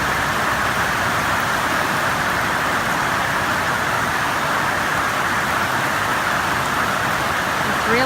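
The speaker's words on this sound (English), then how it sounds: "Praise the Lord, we got rain." Heavy rain pours down steadily over gardens, a dense continuous hiss that fills the whole stretch at high, even loudness with no breaks.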